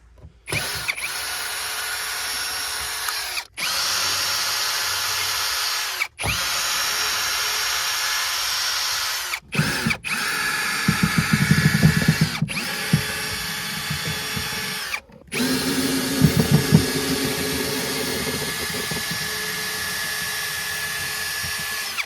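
A power drill backs screws out of a bass boat during restoration, running in long, loud, close whirring bursts of several seconds each, separated by short pauses, with ratcheting and rattling as the screws turn free.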